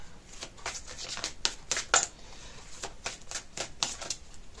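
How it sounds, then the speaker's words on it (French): Playing cards drawn and shuffled from a deck, a soft run of quick papery flicks and snaps, faint and close, with no talking. "Je vais tirer 3 cartes."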